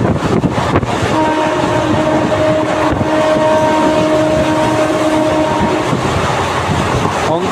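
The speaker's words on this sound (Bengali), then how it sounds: "হংকিংটা শুনছো?" A long, loud, steady horn blast from the Puri–Shalimar Garib Rath train, heard close by over rail rumble and clatter, with brief voices at the start.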